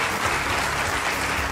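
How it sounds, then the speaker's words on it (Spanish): Studio audience giving a guest a strong round of applause, a continuous, even wash of clapping with no talk over it. "a quien pedimos un fuerte aplauso"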